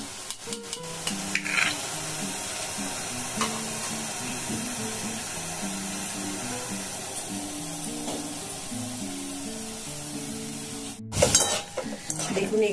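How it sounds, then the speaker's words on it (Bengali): Boondi sizzle and crackle in hot oil in a pan, a dense continuous frying hiss with occasional stirring clinks and a sharp splash near the end. "ব্যাস এইভাবে সবগুলোকে আমাদের ভেজে নিতে হবে।"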